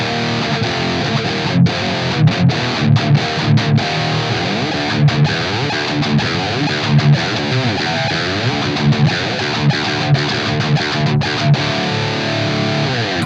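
Distorted electric guitar played through a Blackstar St. James 606 amp plugin with the Artisan cab, loud chugging riffs and chords with short rhythmic stops and sustained notes, continuous throughout with no talking.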